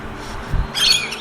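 Australian native birds call out in the open, a brief squawking and chirping burst near the end rising over a quiet outdoor background.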